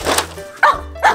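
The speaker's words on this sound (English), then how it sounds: "Wiggles, you can't bark at it, buddy." A pet dog barks three times in a living room, each bark loud and sharp, spaced roughly evenly apart with brief quiet gaps between them.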